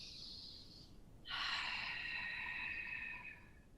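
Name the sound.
breathing during yoga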